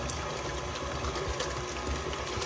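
An electric mixer whisks cream that has separated into butter and buttermilk, a steady, fairly quiet mechanical whir with a faint rhythmic churning and splashing, no talking.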